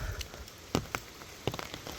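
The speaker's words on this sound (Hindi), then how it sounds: "यहाँ इधर साइड पानी बहने की आवाज़ तो आ रही है" Water runs after a night of heavy rain in foggy mountain meadows, a continuous rushing wash punctuated by scattered drips and soft knocks, with no voices.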